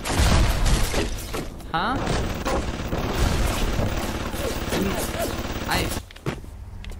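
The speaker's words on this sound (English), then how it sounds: "Are you shooting at each other?" Sustained gunfire from enemies shooting each other in BioShock, dense overlapping bursts and sharp shots with clanks and debris, while a voice talks over the shooting now and then.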